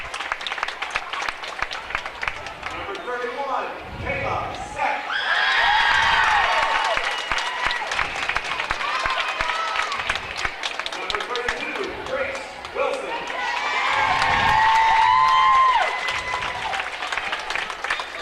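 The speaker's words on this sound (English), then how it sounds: "the fans from Christ the King applauding their young ladies who are receiving the runner-up medallions" Christ the King fans applaud the girls' basketball runner-up medal recipients at the Springfield game, with sustained clapping swelling in two loud bursts while an announcer reads out player numbers and names over it.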